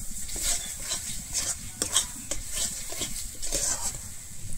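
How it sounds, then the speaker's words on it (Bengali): A spoon stirs sugar into a yogurt mixture for egg korma in a metal pot, producing steady scraping and soft wet swishing in repeated strokes, close and continuous. "চিনিটা দিয়ে আমি আবারও খুব ভালোভাবে এখানে মিশিয়ে নেব।"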